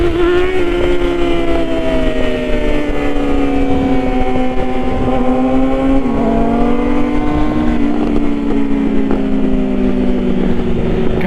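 Sport motorcycles, two Yamaha R6s and a Kawasaki ZX6R, rev loudly and continuously at close range, their high-pitched engine whine rising and falling through the throttle blips.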